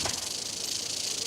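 A rattlesnake shakes its tail rattle in warning as a roadrunner confronts it, giving a steady, dense buzzing hiss that runs unbroken and fairly close throughout, with no voices.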